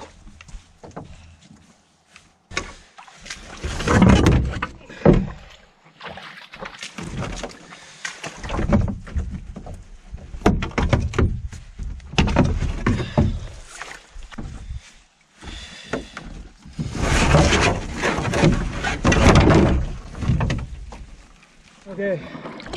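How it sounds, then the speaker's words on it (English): Water sloshing and splashing inside a canoe as it is rinsed out on a creek during a solo camping trip with a dog, irregular bursts of splashing and scraping, with someone talking at times. "Gotta wash the boat out."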